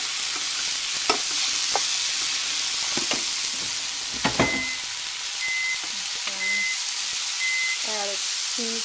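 Kale, mushrooms and other vegetables sizzle in a pan with a steady close hiss, broken by a few sharp stirring clacks and a short electronic beep late on.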